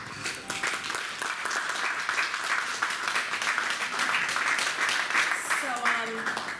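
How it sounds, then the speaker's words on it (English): An audience at an awards talent event gives a sustained round of clapping, dense and even across several seconds, with a voice briefly audible near the end. "I want you all to give her a good round of applause to both of them."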